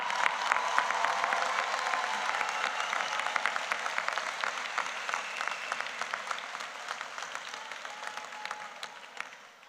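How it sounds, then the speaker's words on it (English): Sustained applause from a commencement audience for a retiring high school principal, steady dense clapping that holds evenly for about ten seconds before easing slightly, heard from a distance in a large hall with no talking over it. "Let's all give him your beloved principal a round of applause"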